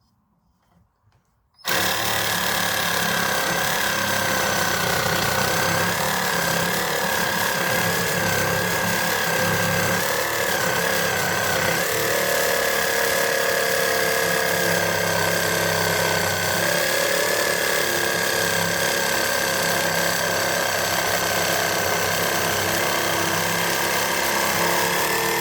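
A reciprocating saw fitted with a 6 TPI wood blade cuts through MDF, starting abruptly after a brief quiet moment and then running as a loud, continuous, buzzing rasp.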